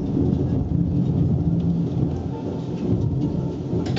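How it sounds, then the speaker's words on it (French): A thunderstorm at Taninges in July, with deep rolling thunder rumbling continuously over steady heavy rain. Loud and close, with no voices. "J'ai vu l'éclair et après le tonnerre a commencé vite de suite."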